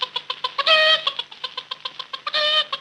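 A chicken clucks in quick, evenly spaced pulses, twice breaking into a longer, drawn-out squawk before returning to the rhythmic clucking, close and clear.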